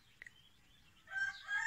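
An injured backyard hen, hurt overnight by an animal, gives a faint, brief call near the end after a quiet stretch with a small tap.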